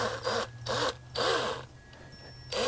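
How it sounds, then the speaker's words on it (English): A Craftsman cordless drill spins forward in three short bursts, each a close, loud whirring run with a rising and falling pitch, separated by brief pauses and a final burst starting at the end. "make sure your drill is on forward, not reverse"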